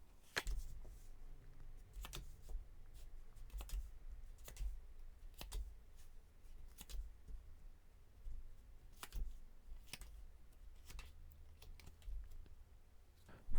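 Tarot cards shuffled and drawn: quiet, close, irregular flicks and taps of cards in a soft run with short pauses between them.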